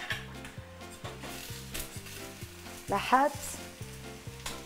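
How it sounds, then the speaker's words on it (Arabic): Onions and parsley sizzle and crackle steadily while frying in a pan, a close, continuous hiss with a brief louder surge as they are stirred. "البصل، بيعملوا صوت كثير حلو هذا الصوت"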